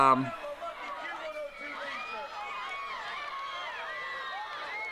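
Wrestling arena crowd at a Jimmy Snuka vs Honky Tonk Man match, a restless murmur of many voices with rising shouts and scattered calls, moderately loud and continuous after a brief opening burst.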